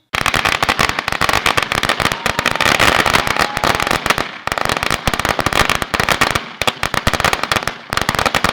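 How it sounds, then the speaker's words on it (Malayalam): A long string of Thrissur-style firecrackers bursting close by: loud, dense rapid cracks and pops running almost continuously, broken by a few brief gaps. "വെക്കടാ വെടി."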